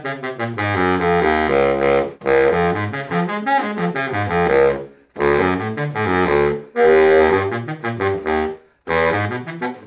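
A cheap student-model Jupiter baritone saxophone plays low-register phrases, a series of sustained reedy notes in four or five bursts separated by short breaths, close and loud, with no talking.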